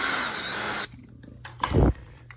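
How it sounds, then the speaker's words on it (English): A power drill loosens the clamp screw on a GFCI outlet in a garage: a loud whirring burst lasting nearly a second cuts off abruptly, followed by quiet and then a brief, heavier low burst. "Loosen it with the drill."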